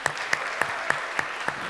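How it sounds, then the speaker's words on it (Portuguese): A few distinct claps sound at an evenly spaced pace during a public hearing, sparse and fairly close, rather than a full round of applause. "Queria pedir uma salva de palmas aqui para a Indianari"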